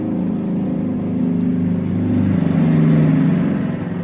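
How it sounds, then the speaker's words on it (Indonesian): A motorbike passes with a steady engine drone that grows louder toward the middle and eases off slightly at the end, with no talking. "Motor lewat."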